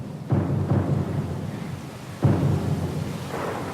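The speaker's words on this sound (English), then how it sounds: "Lost and alone in the storm?" Thunderstorm at sea in the game Pillars of Eternity II: Deadfire, with a steady roar of rain and wind broken by two deep rolling thunder cracks, loud and close.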